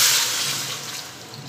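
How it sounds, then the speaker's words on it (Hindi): Water poured from a glass into a vessel holding jaggery, a brief splashing gush that tapers off steadily, with no talking. "1 ग्लास हमने इसके अंदर पानी डाला है"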